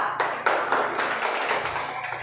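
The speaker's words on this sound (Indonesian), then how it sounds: "silakan duduk, tepuk tangan semua" Classroom of students clapping together at a teacher's request, a brief burst of dense hand claps starting after a moment of quiet and holding steady to the end.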